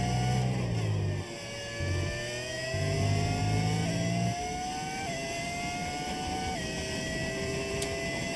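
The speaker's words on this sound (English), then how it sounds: "Why the cars sound different? It's a V10 audio mod." A V10 engine audio mod in the F1 25 racing game sings at high pitch, climbing through the revs and stepping down with gear shifts, loud and continuous with no talking.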